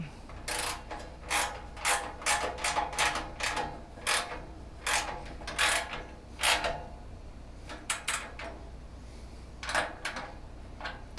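A ratchet clicks as screws are tightened while a trolley for MacBook repairs is being assembled: repeated bursts of sharp ratcheting, in short clusters with brief pauses, close and fairly loud.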